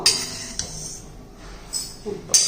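Roasted moong dal tipped from a hot pan into a bowl, with a few scattered clinks and scrapes of metal and lentils spread across a short, fairly quiet stretch.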